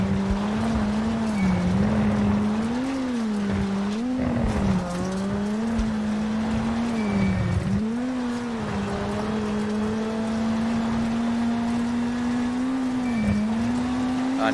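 A Ford rally car in WRC7 at 2018 Rally Finland holds a loud, steady engine drone with pitch swells and dips as it shifts and corners, running alone with no talk.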